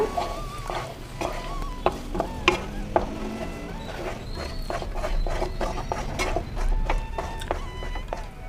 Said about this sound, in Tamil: எவ்வளோதான் இதை எடுத்து நம்ம அல்வாவில் சேர்த்துக்கலாம் பேனில் ஒன்று சேர கலந்துக்கலாங்க